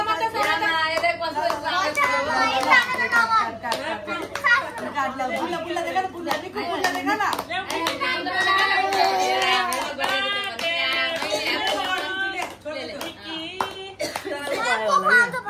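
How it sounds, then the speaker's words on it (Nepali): Guests at a child's birthday party clap together in quick, irregular bursts while children and adults chatter and sing loudly over the top, the hand claps sharp and close beneath the lively voices. "ल सबले ताली बजाइदिनु।"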